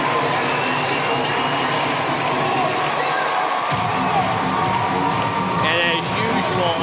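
Dense, roaring crowd noise fills an indoor college basketball arena, Auburn fans cheering at Neville Arena, steady and loud throughout with a brief low dip midway and whistles and shouts riding on top.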